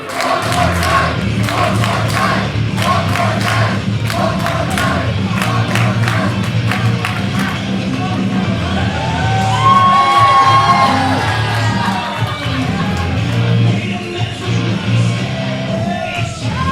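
A women's wrestling match crowd roars throughout, with rhythmic clapping early on, then rising whoops, shouts and battle cries, while ring thuds punctuate the loud, continuous arena din.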